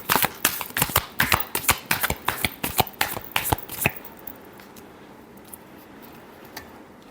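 Tarot cards are shuffled in a quick run of crisp, clicking riffles for about four seconds, close and fairly loud, then fall into near silence.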